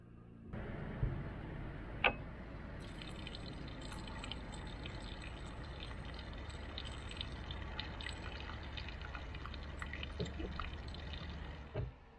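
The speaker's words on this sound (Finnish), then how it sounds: "nyt meillä varraaja on tyhjentymässä" Water heater in a caravan draining, a steady close rush of flowing water running throughout, with a sharp clunk near the start.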